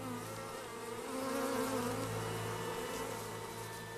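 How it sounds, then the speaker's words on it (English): A bee buzzes near a hive under attack by ants, a steady, continuous insect drone that holds close and fairly loud throughout with no other sounds. "One bee tries to rescue some honey."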